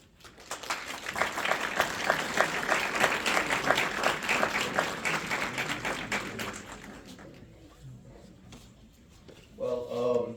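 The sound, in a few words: audience applause welcoming the guest speaker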